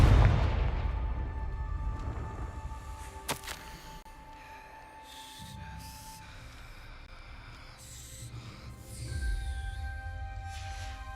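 In Hogwarts Legacy, Confringo blasting spells burst into a booming explosion that fades into rumbling debris, followed by a few sharper magical impacts and a second swell of rumble.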